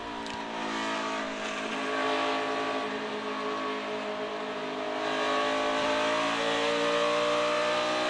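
A NASCAR Cup Series race car at Phoenix Raceway roars at speed, its engine note holding high and steady with slight pitch shifts as it runs through the corners.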